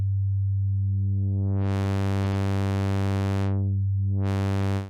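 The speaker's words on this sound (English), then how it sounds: "with the feedback, you can transform the sine wave into a sawtooth wave" A Cherry Audio Sines software synth holds one sustained tone that starts as a pure sine and grows steadily brighter and buzzier as feedback shapes it into a sawtooth, briefly eases back, then brightens again before cutting off.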